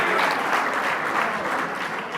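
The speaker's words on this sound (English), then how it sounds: "Let's give him a round of applause" An audience applauds Councilman David Greenfield at a New York City yeshiva event, dense sustained clapping from a full room that fades slightly toward the end.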